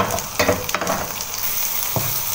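Onion and garlic sizzle in melted butter in a pan, a steady close frying hiss with a few soft stirring scrapes and no voices.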